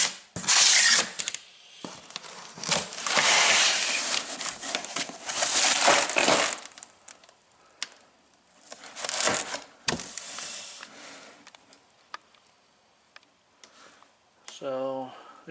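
Crinkling packing material, wood knocks and rustling from an Olimpia MK-005C reel-to-reel tape deck, a rare 1990 Soviet-era unit, being unpacked from a large wooden crate, in close bursts with pauses and a voice speaking at moments.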